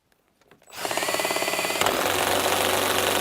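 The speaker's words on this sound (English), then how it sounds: "Oh man, the DeWalt is just not liking this at all. Something's failing." A DeWalt cordless drill starts after a brief quiet moment and runs loud and continuous, straining under heavy load with a rough, uneven whine and no talking.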